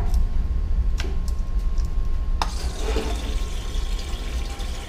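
Coolant gushes from a Honda VT1100 radiator into a drain pan once the cap pressure is released, a steady broadband splashing rush close by, with a few sharp ticks and clinks early on.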